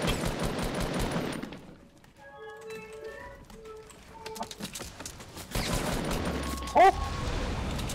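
Gunfire in Fortnite: rapid automatic bursts ring out loudly at the start and again near the end, with a quieter gap in the middle where faint musical tones play.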